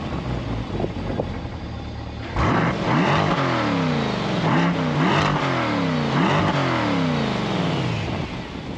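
A 2024 Chevrolet Corvette Convertible with quad outlet exhaust and no performance exhaust cranks and fires, then barks through several sharp rising revs and drops back, loud and close throughout.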